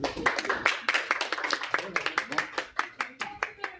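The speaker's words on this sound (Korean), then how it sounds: "박수를 가장 크게 칩니다" Players and guests clap at the award ceremony of the 26th Nongshim Shin Ramyun Cup World Go Championship. The claps are close, crisp and individually distinct, coming in a quick, steady rhythm throughout.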